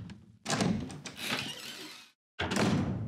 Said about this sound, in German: Sie haben die Tür aufgeschlossen.